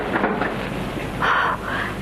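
A thunderstorm rumbles with steady wind and rain as a radio drama sound effect, forming a continuous bed of noise with brief surging gusts, and no voices.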